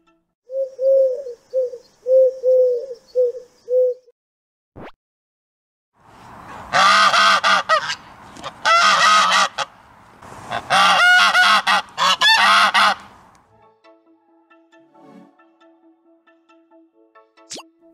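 Geese honk in loud, harsh, overlapping bursts grouped into three clusters, close and prominent, after a few softer cooing calls at the start.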